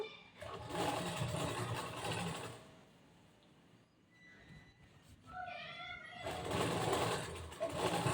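A sewing machine stitching a blouse sleeve runs in two loud whirring bursts with a quieter gap between, where faint squeaky tones briefly sound.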